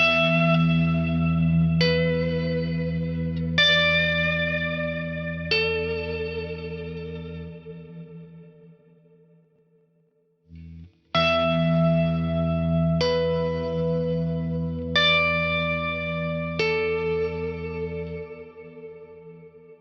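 Guitar chords ring through an Eventide H9 on its shimmer reverb setting with the pitch shift off. Sustained strums bloom into long, washy tails in two phrases split by a brief near-silent gap, and no one speaks.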